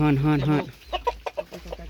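Chickens on a small Thai farm, kept alongside ducks, cluck in short, close, uneven bursts just after a brief stretch of loud voice at the start.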